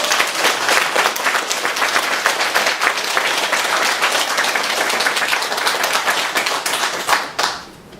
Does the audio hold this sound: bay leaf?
no